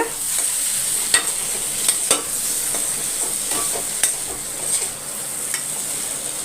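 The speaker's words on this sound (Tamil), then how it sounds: "இந்த பக்கம் உருளைக்கிழங்கு ரோஸ்ட் ஆகிட்டு வருது" Potatoes roast in a hot pan with a continuous bright sizzle, while scattered scraping knocks of stirring land every second or so, close and steady throughout.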